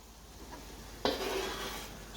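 Chopped coriander is stirred into a thickening chicken curry in a pan, with a soft scrape and then a steady low sizzling stir. It is faint and close, with no talk.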